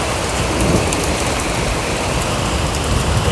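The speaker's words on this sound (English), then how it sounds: "It's raining." Steady, dense rain falling hard on a surface, a continuous close hiss with no breaks and no voices.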